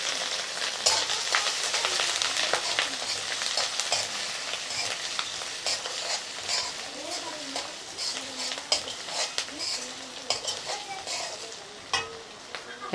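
Five-spice seeds and ginger paste fry in a hot pan, a loud, steady close sizzle with scraping stirs and occasional utensil clinks running throughout.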